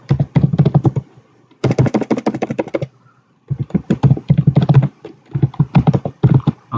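Someone types a quiz title on a computer keyboard: rapid, close, crisp keystroke clatter in three bursts separated by short silent pauses, with no talking.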